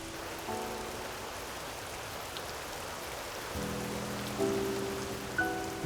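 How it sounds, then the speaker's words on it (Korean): Rain falls steadily on surfaces in a soft continuous patter, with a few louder drips and faint tonal hum in the background, and no talking. "우리는 마치 한 곡의 클래식 음악을 듣는 것처럼 가만히 빗소리를 감상하기도 하죠."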